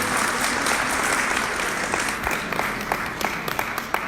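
Audience applause at a live interview event, a steady wash of many hands clapping from a crowd, with a few sharper individual claps standing out as it continues.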